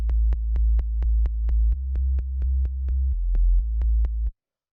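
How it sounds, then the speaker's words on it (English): A techno synth sub bass plays deep sustained root notes, changing pitch every so often, while a sharp click or kick pulses steadily on top. The pattern stops cleanly just before the end. "the last bass layer is the sub, which sounds like this"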